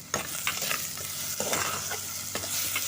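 Tomatoes with onion and a pinch of sugar fry in a pan, a continuous sizzle broken by several scraping stirs of a spoon, close and clear with no voices.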